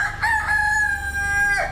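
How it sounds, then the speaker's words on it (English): A rooster crows close by in an urban under-road car park, one clear sustained crow with a low background hum beneath it. "There are at least 8 roosters in this distinctly urban setting, and they have their chicks with them, literally."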